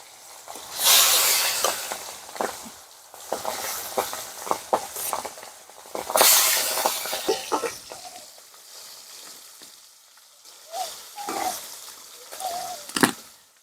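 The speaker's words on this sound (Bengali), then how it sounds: "বাকি মাছগুলো ভেজে নিই" Pangas fish pieces fry in hot oil, with loud sizzling waves that surge and fade, crackling spatters and occasional utensil clinks close by.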